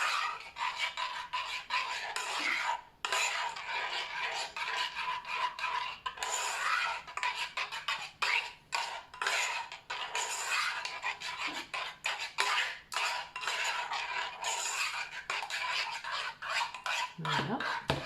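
Homemade flour-based toilet cleaning gel being stirred in a container, a continuous close rasping, rubbing scrape that keeps going with brief pauses and no voices.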